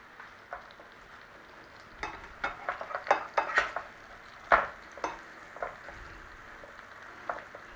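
Pork hoisin burger patties frying and sizzling in a pan after being flipped and pressed down, with a steady close hiss broken by scattered pops, spatula scrapes and clinks of utensils against the pan.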